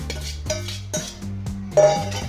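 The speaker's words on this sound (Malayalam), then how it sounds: "എന്നിട്ടൊന്ന് ഇളക്കി കൊടുക്കും" Chicken being stirred into kabsa in a metal pot, a few distinct spoon scrapes and clanks against the pot at a slow, uneven rhythm, close and moderately loud with no talking.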